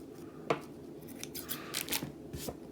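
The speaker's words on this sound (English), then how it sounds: "let me get some scissors." Scissors cut African print fabric for earrings, making a few crisp, close snips and rustling cuts in a quiet room, with no talking.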